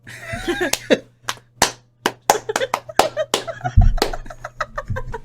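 A few scattered hand claps from just two people, sparse and uneven with long gaps between them, the sharp slaps ringing out over a low steady hum in a quiet room.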